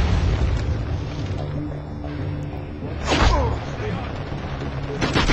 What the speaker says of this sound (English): Dodge the grenade.